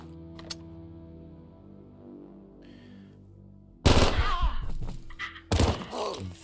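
Loud bursts of pistol fire in Quasimorph, rapid heavy shots arriving in two clusters after a quiet stretch of low ambient drone and a few faint clicks, with no talking.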